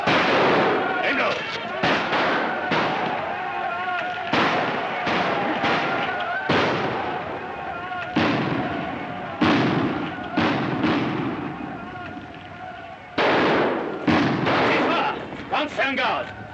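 Gunfire in a 1941 wartime film, sharp loud shots fired in irregular volleys and single cracks, mixed with shouting voices.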